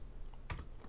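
Two quick keystrokes on a computer keyboard while Pong code is typed in pygame. The first tap is a little louder, and the second comes near the end of a brief stretch of quiet room tone.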